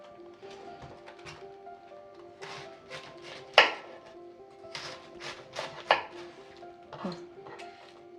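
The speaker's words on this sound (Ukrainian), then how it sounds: "Нарізаю кубиком, таким досить великим." A knife chops cabbage into cubes on a cutting board, irregular crisp thuds with a few sharper knocks, close and fairly quiet.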